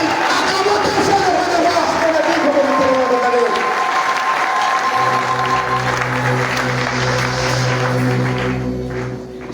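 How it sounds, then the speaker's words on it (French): A church congregation at a Sunday service applauds and cheers loudly, a dense wash of clapping and shouts that thins after about five seconds as sustained keyboard chords come through underneath and a few voices carry on. "Acclamons très fort le Seigneur."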